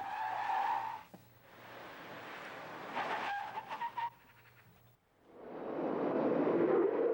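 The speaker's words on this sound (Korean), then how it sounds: "ABS 없이 급제동을 하게 되면 차량의 타이어가 많이 마모됩니다." Car tires skidding and squealing under hard emergency braking without ABS, a sustained rough screech in several bursts with a short gap before a loud final skid.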